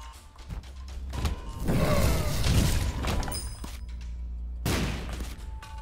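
A bomb goes off in The Binding of Isaac: Repentance, a booming, crunchy blast that swells near the middle and rumbles briefly before a second sharp burst, with a low hum underneath.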